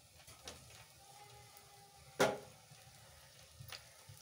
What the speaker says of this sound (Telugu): ఫస్ట్ కొంచెం వేసి చూద్దాం ఆయిల్ హీట్ అయిందో లేదో